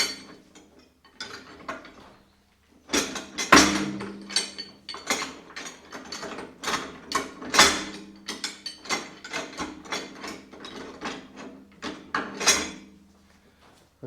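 Metal clicks, ratcheting and clanks as a bolt and castle nut are worked onto the top shaft of a John Deere 3010 tractor, coming in irregular close bursts with brief pauses and no talk.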